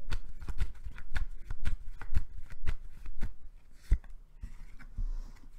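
Tarot cards shuffled and slapped down during a love reading, a quick run of crisp riffling clicks and soft snaps close by, with no talk.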